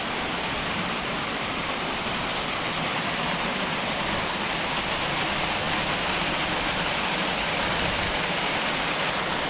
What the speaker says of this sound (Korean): 저 앞에 보이는 폭포가 등선 제1폭포입니다.